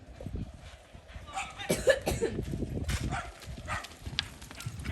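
Irregular hoof clops of a horse moving over ground, mixed with coughing and background noise, fairly close and continuing throughout.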